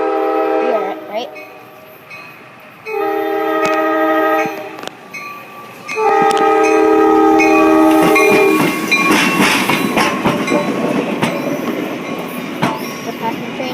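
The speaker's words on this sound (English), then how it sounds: "The passenger train, so it's coming around." A passenger train approaches on a curve and passes close by, sounding several long horn blasts before the clattering wheels and rumble of the cars take over, with a person talking briefly.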